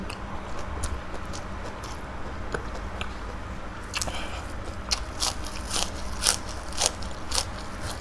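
Crunchy bites into spicy Thai dancing shrimp salad (koi kung ten) with toasted rice and fresh chilies, a run of close crisp crackling chews growing denser toward the end over a steady low background hum.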